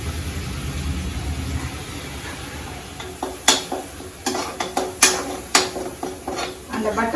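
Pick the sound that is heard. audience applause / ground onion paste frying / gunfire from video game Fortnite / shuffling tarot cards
ground onion paste frying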